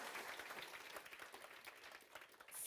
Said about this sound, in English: applause for Chris.